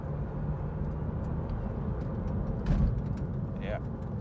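Mini Cooper SD with a B47 diesel engine and an induction kit, heard from inside as a steady low engine drone and road rumble, with people talking over it.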